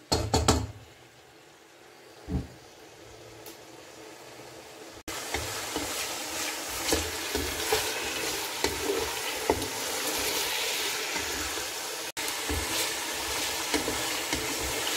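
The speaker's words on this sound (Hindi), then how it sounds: "अब मैं इसमें चिकन डालूंगी। इसे थोड़ा सा फ्राई करेंगे।" Chicken pieces frying in about two cups of oil in a pan for chicken pulao, a steady loud crackling sizzle that starts after a quiet opening with a couple of knocks and runs continuously, with a brief break near the end.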